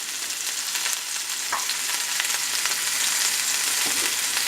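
Pork chops browning in a hot pan, a steady loud sizzle and crackle of frying with occasional faint scrapes, continuous and close.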